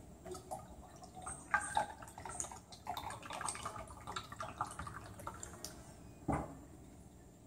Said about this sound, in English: Now I'm going to pour.